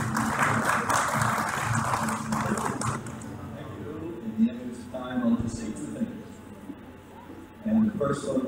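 Applause from a business forum audience on space science and technology, a broad wash of clapping for the first few seconds that fades out, followed by quieter room noise and scattered knocks.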